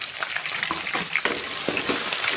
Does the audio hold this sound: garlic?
yes